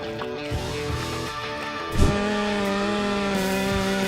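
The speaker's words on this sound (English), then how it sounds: "Here is mesmerizing and fascinating huge tree felling footage." A chainsaw cuts down a huge tree, giving a steady droning engine whine with a couple of dull thumps partway through. It sounds moderately close, with no talking.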